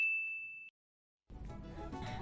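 A single bright notification bell ding rings clearly and sustains for a moment before cutting to silence, after which other sound starts.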